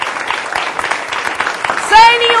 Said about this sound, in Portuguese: Um grande aplauso para o nosso primeiro convidado, José Manuel Diogo.